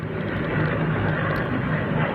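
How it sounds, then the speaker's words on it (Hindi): Sixteen Mi-8 helicopters flying over Belarus, a steady, loud broadband rotor and engine drone with a faint low hum, continuous throughout. "ये Mi-8 हेलीकॉप्टर्स हैं, 16 Mi-8 हेलीकॉप्टर्स जो बेलारूस में लगातार नजर आ रहे हैं।"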